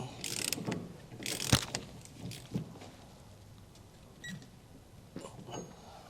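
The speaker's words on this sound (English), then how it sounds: "We'll just get our ball torqued down" A wrench torques down a trailer hitch ball on a TowSmart ball mount for 2-inch hitches, giving a few sharp metallic clicks and ratcheting clanks with pauses between them, fairly quiet and close.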